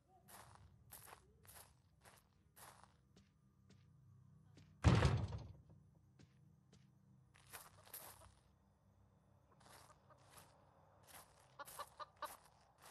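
Chickens cluck in the horror video game Evil Nun: The Broken Mask, soft intermittent bursts spread across the scene with footsteps, and a loud door slam near the middle.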